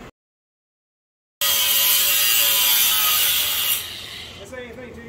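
A power tool cuts into the bellhousing of an 8HP70 transmission for starter clearance, starting abruptly after a brief silence as a loud, steady, rasping grind close by, then dropping to a lower whine near the end.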